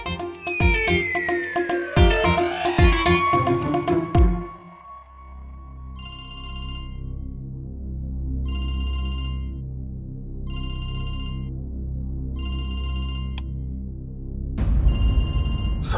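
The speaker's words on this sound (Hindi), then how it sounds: "संभव इतनी रात को क्यों फोन कर रहा है?" A telephone rings late at night in a quiet room, sounding in four or five evenly spaced electronic ring bursts that stand alone after louder background music fades.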